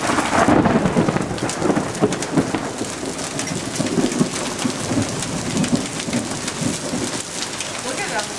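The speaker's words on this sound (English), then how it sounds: "It's getting hailed on." Heavy hail pounding onto a car during a storm, a loud dense rattle of impacts with rushing rain and a thunder-like roar, close and continuous.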